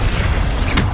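A Bombarda explosion spell going off in Hogwarts Legacy, a short deep rumbling boom with a brief crackling burst near the end, loud and close.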